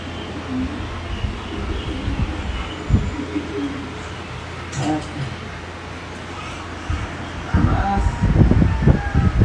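Pigeons coo in low repeated bursts, louder toward the end, with muffled voices and background noise mixed in.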